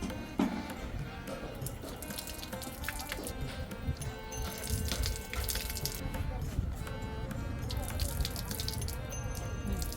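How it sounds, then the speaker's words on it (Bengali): Hilsa fish is rinsed under running tap water in a kitchen sink, with a steady splashing flow and small wet handling sounds throughout and a voice talking over it. "বেশি ধুচ্ছি না আমরা সামান্য করে ধুয়ে নিচ্ছি ইলিশ মাছ"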